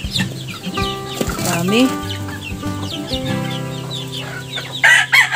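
Native chickens cluck busily at close range while a rooster lets out a drawn-out crow, with scattered chirps and a few spoken words among the birds.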